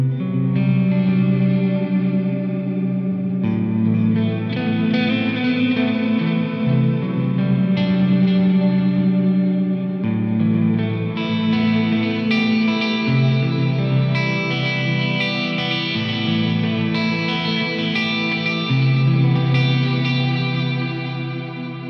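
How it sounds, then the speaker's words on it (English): An electric guitar plays through a Laney IRT-X cabinet with octave reverb and distortion, giving sustained, layered chords with a thick, shimmering, echoing tail that changes every few seconds. No one talks over it. "So here's with the octoverb on there."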